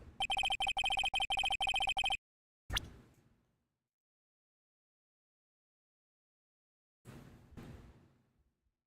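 A cell phone rings in the Phoenix Wright: Ace Attorney video game, a rapid trilling electronic ring repeating several times before stopping abruptly, followed by short whooshing sound effects and silence between them.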